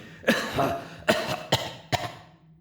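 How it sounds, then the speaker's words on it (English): A short fit of coughing, four or five harsh coughs in quick succession, close and fairly loud with no talking. "He broke into another fit of coughing"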